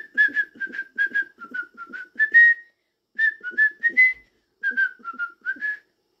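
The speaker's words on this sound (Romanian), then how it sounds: "Vrei să-ți fluier?" A person whistles to a pet parrot indoors, a string of short, bright melodic phrases in three bursts separated by brief pauses, close and clear.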